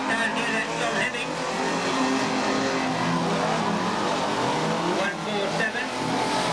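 An unlimited banger race car at Ringwood Raceway slows down, its engine droning and easing off amid other racing cars, with a commentator talking over it throughout.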